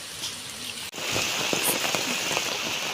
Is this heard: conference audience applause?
no